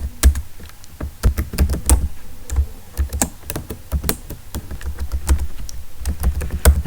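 Someone types Java code on a computer keyboard, a brisk irregular run of close, crisp key taps and clicks with short pauses and no talk.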